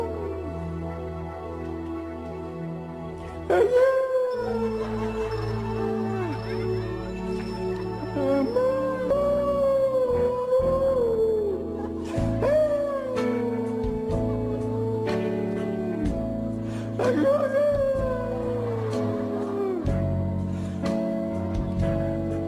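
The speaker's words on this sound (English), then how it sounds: "The wolf's mating call." A howl offered as a wolf's mating call, several long, wavering, sliding tonal cries rising and falling in sequence over a steady low background, loud and close.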